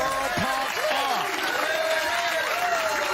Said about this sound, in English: He's getting his crowd in Jonesboro pumped up.